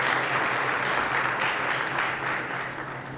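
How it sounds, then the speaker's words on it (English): An audience at a chartered accountants' lecture meeting applauds, a thick, continuous wash of clapping that stays loud and fades a little toward the end. "Please everyone, please give a huge round of applause."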